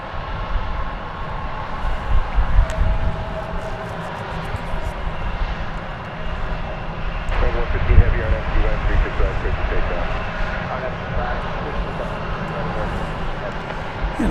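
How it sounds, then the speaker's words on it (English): A Boeing 787 Dreamliner jet airliner at DFW Airport gives off a rumbling engine roar at middle distance, steady with gentle swells, while people talk over it. "And I think we're getting ready for the big Dreamliner to go out."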